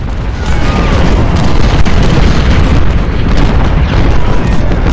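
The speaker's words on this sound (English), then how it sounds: "Torbert, shoot through our artillery." Artillery fire in the Ultimate General: Civil War strategy game at Malvern Hill: a loud, dense wall of rumbling booms and overlapping blasts, sustained and heavy for several seconds with no gaps.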